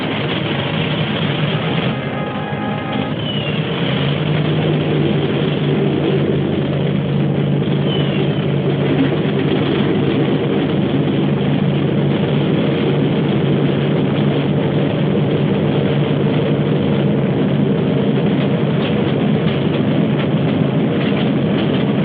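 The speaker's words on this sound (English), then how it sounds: "Start engines." Several engines of a WWII bomber start and settle into a loud, steady droning roar, thick and constant at close range, heard through old, band-limited film audio.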